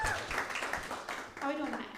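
Comedy club audience applause, a short burst of clapping mixed with vocal cheering and whooping from the crowd, loud and close throughout.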